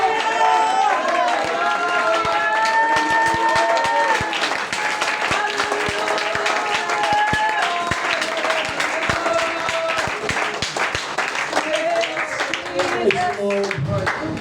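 A church congregation at a Pentecostal service claps and shouts together, with dense, steady applause and raised voices praising, loud and close for the whole stretch.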